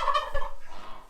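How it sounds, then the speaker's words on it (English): A farm turkey gobbles once, a short rapid warbling call heard near and clear with no talk. "Turkeys and geese."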